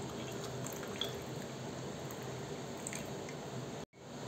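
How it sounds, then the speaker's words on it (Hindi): Sprite fizzes and splashes steadily as it is poured into a mango mojito with mango and lemon, a constant close hiss that cuts off abruptly near the end. "मैंने लिया है स्प्राइट, तो मैं डाल रही हूँ इसमें स्प्राइट"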